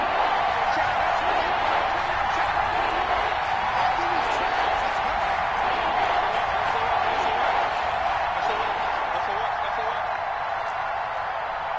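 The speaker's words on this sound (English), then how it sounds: "the crowd getting into it as we come up on a big third down" Stadium crowd at a football video game roars steadily, a dense, loud wash of cheering that holds throughout, with commentary voices partly blended in.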